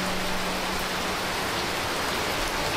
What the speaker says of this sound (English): being caught in a rainstorm like this one is enough to wreck your entire holiday